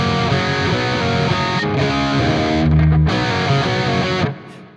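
Distorted electric guitar plays a quick repeating riff, with fast pull-off note changes, loud and close, ending abruptly.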